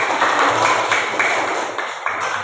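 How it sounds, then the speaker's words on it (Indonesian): Brief classroom clapping from a group of students, a burst of rapid claps that fades after about two seconds, with faint voices. "Kasih tepuk tangan."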